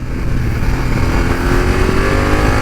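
A BMW F900XR motorcycle engine running at a steady, loud, close idle-like drone, continuous without clear revving or speech.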